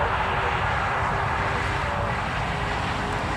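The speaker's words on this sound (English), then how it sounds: "I can hear engines starting up, so I believe that will be Air France on the pushback" Air France airliner engines spooling up during pushback at Newcastle Airport, a constant loud roar with a faint steady whine throughout.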